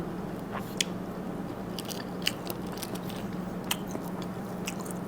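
Crunchy pork skin, eaten with Japanese cucumber and fermented pork, is chewed up close in small crisp crackles and soft bites over a steady low hum.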